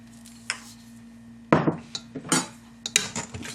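Scraping and clinking of a utensil against a pan while beef short ribs and Brussels sprouts coated in sauce are stirred, heard as irregular bursts over a steady low hum.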